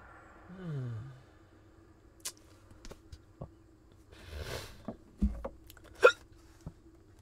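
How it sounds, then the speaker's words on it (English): A person with very powerful hiccups at breakfast: after a short vocal sound, several sharp, abrupt hiccups come at irregular intervals in a quiet room, close and clear. "Very powerful hiccups."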